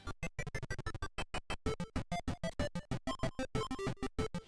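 Chiptune music from the Virtual Boy tennis game Mario's Tennis plays as rapid, choppy bursts of bright electronic tones in a fast staccato rhythm, faint and continuous with no talking.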